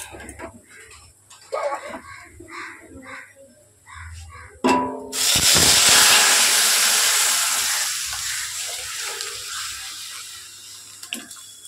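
Dried lentils (dal) tipped into a pan of hot mustard oil over a gas flame, bursting into a loud sustained sizzle and hiss that slowly settles, after some quieter kitchen clatter.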